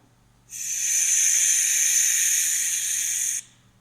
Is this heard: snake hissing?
yes